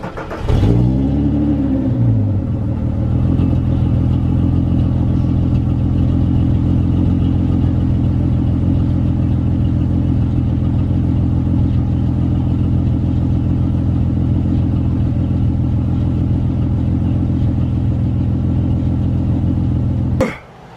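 A Volkswagen Jetta VR6 engine cranks briefly with a starter whir, catches, and settles into a steady, loud, close idle that runs on evenly for about twenty seconds before cutting off.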